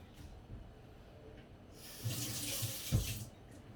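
Tap water runs and splashes while a Japanese kitchen knife and a 5000-grit sharpening stone are rinsed, a steady moderate gush that swells for about a second, with no voices.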